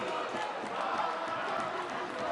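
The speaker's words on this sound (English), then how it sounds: "And of course the crowd is getting loud." Basketball crowd of South African and Zimbabwean fans at an international tournament in Eswatini, a steady roar of cheering and shouting filling the arena, with commentary voices mixed into the din.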